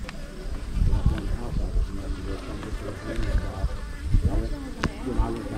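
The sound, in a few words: honeybees buzzing at a beehive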